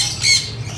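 A single short, harsh parrot squawk rings out close by, lasting under a second against a faint low background.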